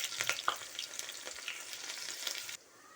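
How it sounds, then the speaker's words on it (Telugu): Chopped onions hit hot tempering oil and sizzle loudly, with a few sharp crackles and spatula scrapes early on before the hiss settles and drops off near the end. "పోపు వేగిందండి. ఒక ఆనియన్స్ వేసేస్తున్నాను."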